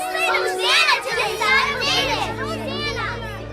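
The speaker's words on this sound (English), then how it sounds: "the children crying out in the temple" In a theatrical audio drama set in a temple, a crowd of children's voices cries out and shouts in excited overlapping waves, loud and close, continuing without pause.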